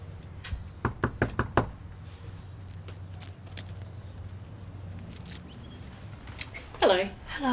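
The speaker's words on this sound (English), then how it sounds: "So, who's going to knock? I guess I will." A series of sharp knocks on a house door, several quick raps in a cluster, followed by quieter footsteps and movement, with a voice rising near the end.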